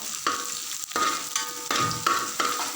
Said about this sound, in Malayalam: ഇനി ഞാൻ ആഡ് ചെയ്യുന്നത് ഇതിലേക്ക് ബീൻസ് ആണ് കേട്ടോ ഇത് നമുക്കൊന്ന് വറുത്തെടുക്കാം